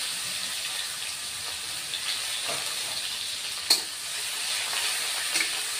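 Chopped onion sizzling as it fries in hot oil, a constant close hiss with faint crackles and one sharp pop, no talking.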